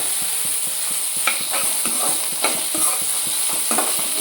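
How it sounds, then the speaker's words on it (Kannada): Leftover chapati pieces frying in a pan, a steady close hiss of oil with intermittent scraping stirs from a spatula, loud and continuous, no talking. "ಒಂದು ಎರಡು ನಿಮಿಷ ಹುರ್ಕೊಳ್ಳೋಣ ಸ್ವಲ್ಪ"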